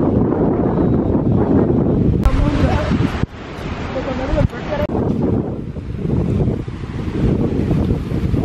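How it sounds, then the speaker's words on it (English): Strong wind at the beach pounds the microphone with loud, rough low rumbling and gusty buffeting that barely lets up, and people talk over it. "It's awful windy."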